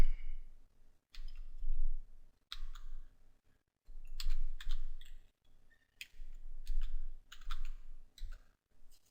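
Fingers type on a computer keyboard in several quick bursts of crisp, close clicks separated by short pauses, with no talking.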